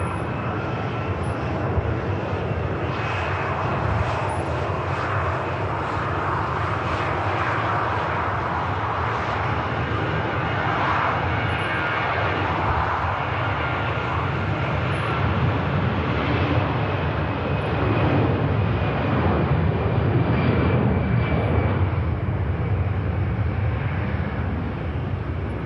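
An EasyJet airliner taxiing at Manchester Airport gives a steady, loud engine roar with a high whine that holds throughout, with no talk over it.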